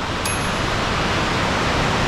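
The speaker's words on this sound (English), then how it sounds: "And there's a beautiful waterfall here." Roadside waterfall in Norway pouring into a fjord in winter, a steady, dense broadband rush that fills the scene evenly from start to end, with one brief bright ding near the start.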